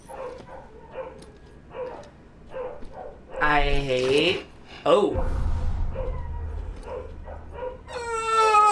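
Dogs barking downstairs in a house, muffled and off-mic, with yips breaking out between stretches of someone talking, while a loud game soundtrack swells over them.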